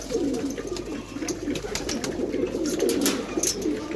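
Soft, low pigeon cooing repeats steadily throughout, layered with a few faint higher chirps against a mild outdoor background.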